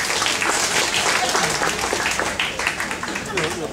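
Audience applause at an Indonesian bloggers' event about the state electricity company PLN, steady clapping from a crowd filling the whole moment with a slight dip partway through.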